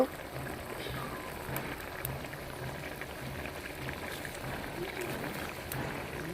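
Fish curry with green tomatoes simmering down to a dry gravy in a pan, a faint, steady bubbling and soft sputter that runs low and continuous throughout.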